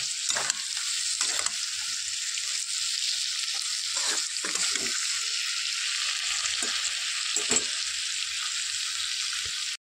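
A ground paste of ginger, garlic and chili sizzles and fries in a pan, a steady loud hiss broken by occasional scraping stirs.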